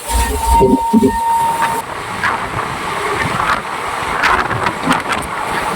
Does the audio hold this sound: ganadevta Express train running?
yes